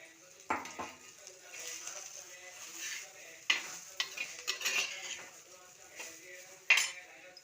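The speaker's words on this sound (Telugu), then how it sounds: "ఈ టమాటోలు వేసేద్దాం." Tomatoes are tipped into a hot tempering in a pan and stirred, with a soft sizzle under repeated spoon scrapes and clinks against the metal, fairly quiet and close.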